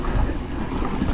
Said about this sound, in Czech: Ale fouká docela zásadně.